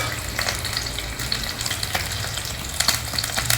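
Curry leaves, whole black pepper and cumin seeds fry in hot oil with a steady, close sizzle and crackle, spitting in small bursts while being stirred.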